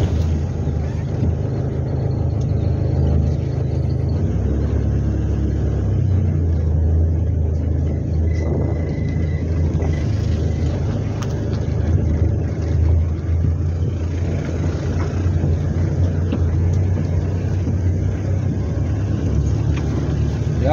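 Steady low engine rumble and road noise from inside a small car with a large rear cargo bed, driven on short local trips, continuous and fairly loud throughout with no talking.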